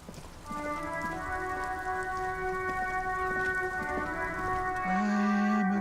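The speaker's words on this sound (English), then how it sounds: "It's raining again." Steady rain in the video game Disco Elysium patters continuously under layered tonal music with sustained notes, a soft even wash throughout.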